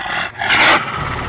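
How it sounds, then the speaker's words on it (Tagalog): Horror creatures snarl angrily in a brief, loud, harsh growl that swells and cuts off within about a second. "Kaya naman nag-angil ang mga yon ng galit na galit."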